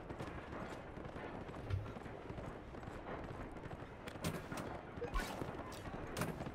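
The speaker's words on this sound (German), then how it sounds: "Das ist ein Pferd." Horse hooves clip-clop in The Escapists 2, a steady run of soft game-audio footfalls holding at an even level throughout, with a few brighter knocks standing out briefly.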